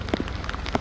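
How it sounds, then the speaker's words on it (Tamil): Heavy storm rain pours down in Jaffna, a dense hiss of drops pattering on surfaces with scattered louder splats, steady and close throughout. "மழையும் கொட்டுது."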